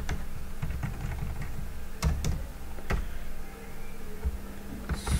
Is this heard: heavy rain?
no